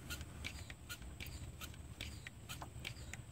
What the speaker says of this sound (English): I can hear pops and gurgles inside the reservoir